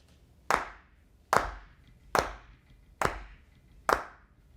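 Five sharp hand claps ring out one at a time at an even, unhurried pace, each crisp and close with a short decay, against a quiet room.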